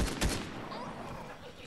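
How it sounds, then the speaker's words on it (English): Video game fireworks burst in a quick crackling volley, loudest at the start and then trailing off into a dense fizzing spray, with faint voices in the background. "These fireworks are insane"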